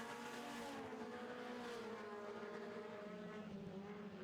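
Four-cylinder stock cars race around a track, their engines droning steadily from a distance with rising and falling pitch as the cars go through corners, fairly faint throughout.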